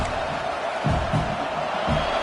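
A large football stadium crowd roars steadily, a broad wash of cheering and noise with a few swells, loud and continuous.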